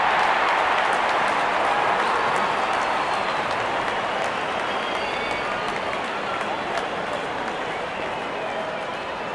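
A large stadium crowd in the cricket video game Real Cricket, India versus Nepal, cheers in a steady, dense roar of voices and scattered clapping as the openers walk out, sustained throughout at an even level.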